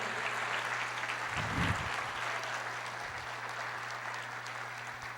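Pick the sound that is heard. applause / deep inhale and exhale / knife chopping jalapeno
applause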